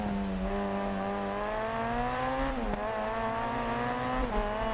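Rally cars racing in the Dirt Rally 2.0 video game, a high, strained engine note held at steady revs with brief dips at gear shifts, continuous and alone without talk.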